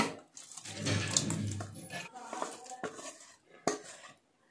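Fish pieces dropped into a curry pot, soft clattering and knocking of the pot and utensils with a few sharp clinks, close and fairly quiet, fading out at the end.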